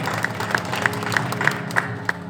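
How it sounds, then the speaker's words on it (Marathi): A crowd claps in a rhythmic, steady beat at a traditional bhajan performance, with regular sharp claps roughly every third of a second over a low background murmur. "सलग त्यांच्यासाठी एकदा जोरदार पहिला टाळ्या वाजवा"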